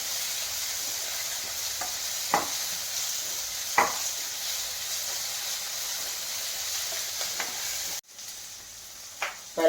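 Chopped tomato frying in a pan keeps up a constant soft sizzle, broken by several sharp scrapes of a spoon stirring against the pan at irregular intervals.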